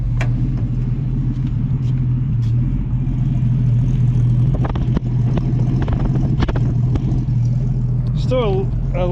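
A 1965 Ford Mustang restomod's engine runs close by in a garage with a steady low idle rumble, a few sharp clicks and a brief rise near the end, while someone talks intermittently over it.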